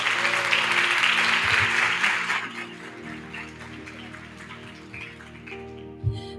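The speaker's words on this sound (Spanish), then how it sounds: "Démosle un aplauso al Señor." A church congregation claps for the Lord after a prayer; dense applause for about three seconds, then tapering off into scattered claps and a faint hum of the room.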